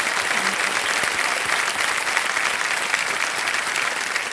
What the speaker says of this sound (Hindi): जोरदार तालियां बज जाए एक बार इनके लिए